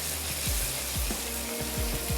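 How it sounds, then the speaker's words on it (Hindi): Spices with coriander powder, salt and turmeric frying in a pan for jaljeera, a steady close sizzle with a few stirring scrapes running throughout, no voices. "थोड़ा सा भूनते हैं"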